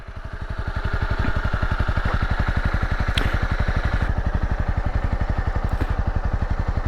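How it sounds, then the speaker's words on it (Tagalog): A Honda CB300R motorcycle engine runs steadily nearby, a rapid even thumping pulse that builds slightly in the first second and then holds, with faint clicks over it and no voices. "ito na yung motor natin na CB300R"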